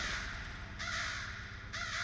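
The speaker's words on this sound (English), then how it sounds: "Crows." Crows caw in The Stanley Parable Ultra Deluxe video game, loud and close, in two bursts of repeated harsh calls over a steady low background drone.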